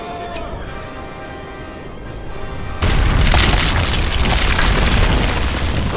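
An earthquake power striking an enemy fortress in Battle for Middle-earth II, a sudden loud rumbling roar that erupts midway and holds as a sustained, dense low crash after a quieter stretch of battle ambience.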